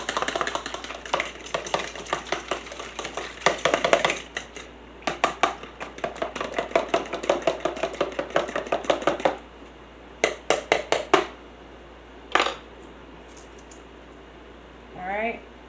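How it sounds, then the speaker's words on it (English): Eggs are whisked in a bowl into an egg wash for keto breading on cubed pork steak, with rapid rhythmic clicking strokes in bursts separated by pauses, fairly close and moderately loud. "Okay, so I'm just going to scramble these up. Get a good egg wash."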